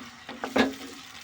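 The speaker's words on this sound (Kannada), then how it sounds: "ಟೊಮೊಟೊ ಹಾಕ್ಕೊಂಡು ಚೆನ್ನಾಗಿ ಫ್ರೈ ಮಾಡ್ಕೊಳ್ಳೋಣ." Chopped tomatoes fry in oil in a pan for a bean curry, heard as a brief, soft stirring scrape with light sizzling close by.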